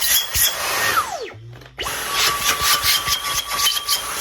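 A Dyson V11 Outsize cordless vacuum cleaner motor whines down to a stop, pauses briefly, then spins back up to a steady high-pitched whir with a thin squeaky tone riding on it.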